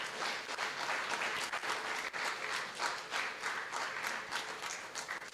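Audience applause at a chartered accountants study circle book release honoring auditor Ramachandran, a steady, dense roomful of clapping sustained throughout with no voices.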